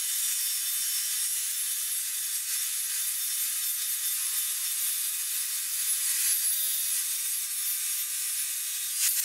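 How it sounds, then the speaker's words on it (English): Wooden trim pieces being sawn to depth while fitting out a camper van, a steady, unbroken hiss of cutting that stays close and fairly loud for the whole stretch, with no voices. "We can start cutting this down to the desired depth we want it to be."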